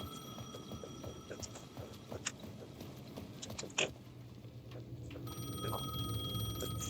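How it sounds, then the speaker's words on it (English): A payphone at the edge of a plaza in the video game Alan Wake 2 rings with steady, faint bell tones over a low ambient hum, with a single brief louder knock partway through. "The payphone at the edge of the plaza was ringing again."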